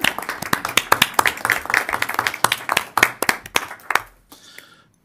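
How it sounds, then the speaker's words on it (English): Audience at a school district board meeting clapping, a steady burst of scattered, fairly close handclaps for about four seconds that thins out and stops, leaving a quiet room. "Is it okay to clap for them?"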